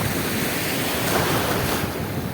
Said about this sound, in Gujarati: એવો મોજો આવે તમે જુઓ